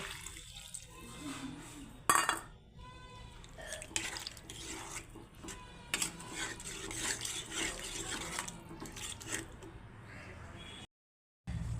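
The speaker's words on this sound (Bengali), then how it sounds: "এখন আমি দিয়ে দিচ্ছি জল" Water splashes and trickles into a pan of tilapia fish curry with potatoes and ridge gourd, faint and intermittent with clinks of the vessel, a brief dropout near the end.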